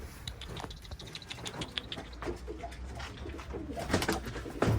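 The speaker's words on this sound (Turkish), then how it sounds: "Evet kuşları açıyorum ben." Domestic pigeons coo and shuffle nearby as a flock is let out, with soft rhythmic cooing and fluttery tapping and scratching sounds over a steady background, with no one speaking.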